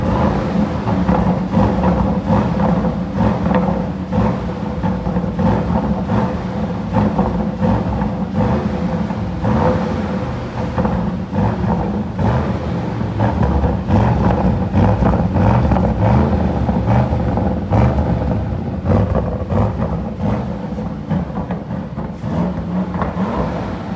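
A 2025 Audi RSQ8 Performance engine revs heard from outside the car, a loud, continuous, throaty rumble with rising and falling pulses that carries on without a break.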